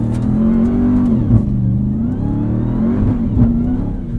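A 2021 Ram 1500 TRX truck engine accelerating on sand dunes, a loud, sustained low roar with steady harmonic drone that swells slightly as it pulls, no talking.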